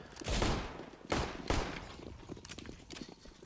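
A few pistol shots ring out in a Counter-Strike match on the Nuke map, with two sharp loud reports close together and then fainter scattered shots and thuds further off.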